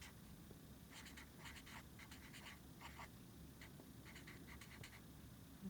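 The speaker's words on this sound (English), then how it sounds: "I'm going to write this down" Pen on paper jotting down notes, soft intermittent scratching strokes in short clusters over a quiet background.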